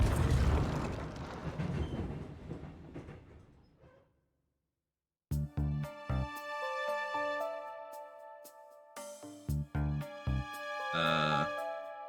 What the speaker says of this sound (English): The train starting moving? It's so fast.